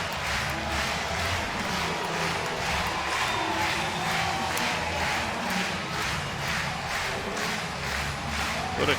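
A college baseball crowd at the 2019 NCAA Oxford Regional, Ole Miss vs Clemson, roars after a home run. The noise is loud, dense and sustained for the whole stretch, with no pause.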